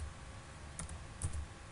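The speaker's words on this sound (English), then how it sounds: "So just go to your browser and type" Typing on a computer keyboard to enter a search in a web browser, heard as a few faint, sparse key clicks against a quiet background.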